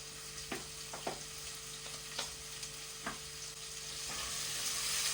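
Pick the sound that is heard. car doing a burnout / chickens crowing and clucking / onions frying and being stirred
onions frying and being stirred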